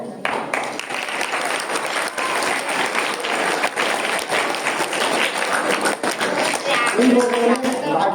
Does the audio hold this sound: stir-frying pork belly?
no